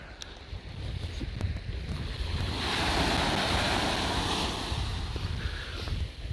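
Ocean waves break near Whale Rock, a loud continuous roar of surf that swells toward the middle and eases again, mixed with gusty wind buffeting the microphone.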